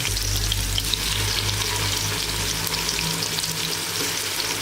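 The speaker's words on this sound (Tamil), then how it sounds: "இப்போ இஞ்சி பூண்டு பேஸ்ட்டு சேர்த்துக்கலாம்." Ginger garlic paste fries with sautéed onions in a pan for a crab masala gravy, giving a steady, close, hissing sizzle with faint stirring and no talking.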